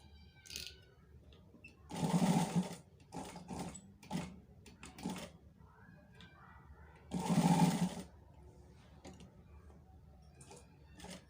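A sewing machine stitches a high neck collar in two short, loud bursts of rapid stitching, separated by quieter mechanical clicks and handling noises in a calm room.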